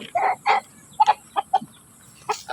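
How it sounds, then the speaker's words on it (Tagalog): Chickens cluck in short bursts, several close clucks spaced irregularly with brief quiet gaps between them. "So, malalaking manok to."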